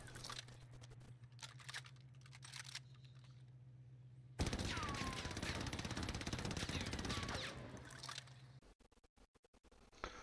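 Suppressed AS44 rifle with a Mercury silencer firing in Warzone, rapid muffled shots in bursts over steady game background noise, with a dense stretch of continuous fire midway.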